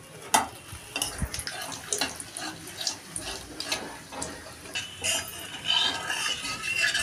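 Whole spices sizzling in hot oil for a tempering: a bay leaf torn in half, a dried red chili, cardamom, cloves and cinnamon. There is a steady, close crackle with scattered small pops throughout.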